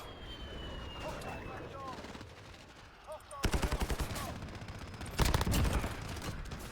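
A 9mm Makarov pistol fires in the Modern Warfare 2019 shooter. Quieter game ambience gives way to two loud bursts of rapid, closely spaced shots with short pauses between them.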